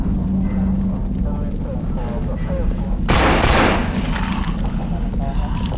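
Gunfire in the zombie shooter No More Room in Hell rings out as one sharp, loud burst of shots midway, over a busy bed of game noise and a voice talking.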